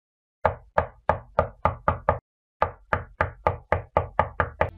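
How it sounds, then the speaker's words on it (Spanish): A door knocked on in two quick bursts of roughly seven sharp raps each, split by a short pause, loud and close with nothing else heard. "Y toque la puerta."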